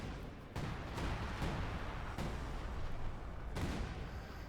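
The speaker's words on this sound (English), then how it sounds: "So much artillery." Artillery fire in the World War II strategy game Company of Heroes 2, a dense, continuous rumble of blasts with several sharp booming impacts spaced a second or two apart.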